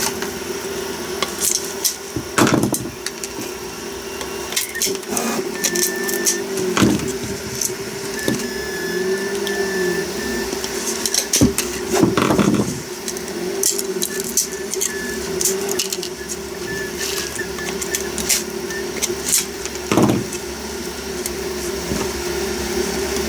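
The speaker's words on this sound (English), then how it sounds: "sorry, Mr. Printer. You're going for another 2-hour journey." A 3D printer runs a long print, its stepper motors whirring and whining in shifting sweeps over a steady mechanical hum, with occasional sharp clicks and no talking.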